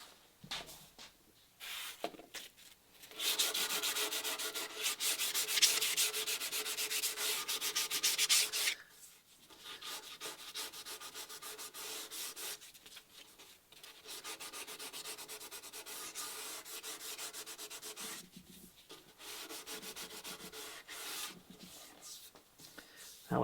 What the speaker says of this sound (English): Get some finer sandpaper to do that with